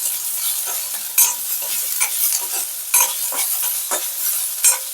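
Grated ginger with a little turmeric sizzles steadily in hot oil for a potato and egg curry, with several sharp spatula scrapes and clinks against the pan standing out above the constant crackle.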